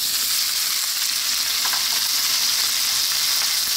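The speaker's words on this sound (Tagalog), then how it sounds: "Gigisahin ko lang siya ng mga 5 minuto" Pork belly sautés in a pan with garlic, ginger and onion, giving a loud, steady close sizzle with faint stirring and no voices.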